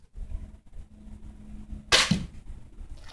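A crossbow bolt strikes a target with one sharp, loud impact that rings briefly, breaking a low steady background hum.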